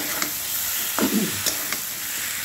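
A soft continuous sizzle of spices frying in oil for a fish curry, with a few scraping stirs and clinks of a utensil against the pan.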